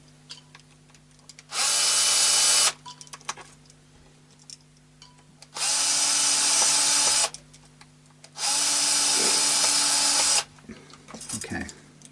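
Cordless drill driving screws into a Yamaha ER 121 guitar during a setup, three loud bursts of about a second or two each, separated by quiet pauses with faint handling noise.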